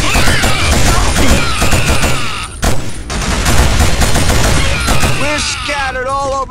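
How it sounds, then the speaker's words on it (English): Heavy sustained gunfire and bursts of automatic weapons in the PS2 shooter Killzone, loud and near, filling nearly the whole stretch with a short lull midway; shouted voices break through over the shooting. "Taking heavy fire!"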